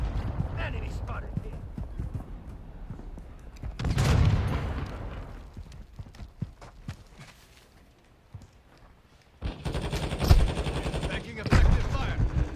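Gunfire in a Call of Duty Modern Warfare II match: scattered shots and bursts come in two loud clusters, one early and a heavier spell near the end, with radio-style callouts from game voices in between.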